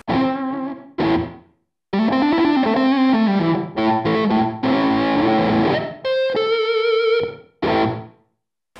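An electric guitar on its bridge pickup with the tone rolled off plays through a DigiTech RP360 with compressor and short heavy reverb, giving bursts of sustained, slightly distorted chords and single notes separated by brief silences.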